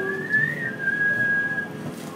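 Whistling from people, a single sustained melodic line held steadily for about two seconds over a soft background hum.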